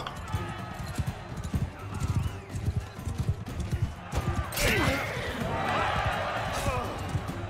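A horse gallops in a Mount & Blade 2: Bannerlord battle, its hooves thudding in a quick, rhythmic clip-clop, then a crash and loud battle noise with voices shouting over the hoofbeats.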